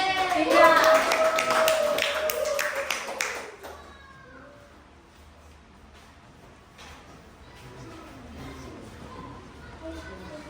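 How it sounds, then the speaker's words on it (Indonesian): A classroom group gives a round of applause for group 3, loud clapping with children's voices for about four seconds before it fades into quieter room noise and faint talk. "Aplaus untuk kelompok 3"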